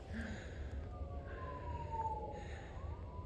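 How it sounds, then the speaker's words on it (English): Faint emergency sirens wail about five miles away, heard from a mountain trail above Provo, Utah, their pitch sliding up and down beneath a low steady background rumble. "Those sirens have got to be at least 5 miles away."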